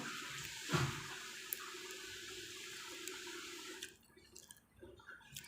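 Water runs and splashes steadily during a bath, with a louder splash near the start, then the flow stops and leaves quiet drips and small knocks, nearby with no talking.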